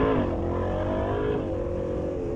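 A 2020/21 Honda Africa Twin 1100 DCT motorcycle accelerates hard with its engine roaring steadily and loudly and the pitch climbing smoothly as it pulls. No voices are heard.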